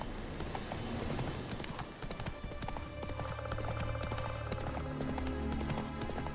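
Horse hooves clatter in a steady galloping rhythm inside The Witcher 3, loud and continuous over a layer of game ambience and music.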